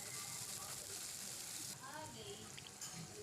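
Ginger garlic paste fries in hot oil with a steady, broadband sizzle that runs continuously at close range, easing slightly partway through as faint stirring scrapes come in.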